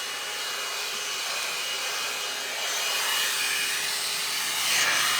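A blow dryer brush drying a pixie cut gives a steady, close, rushing hiss of blown air with a faint whine, continuous and alone for several seconds.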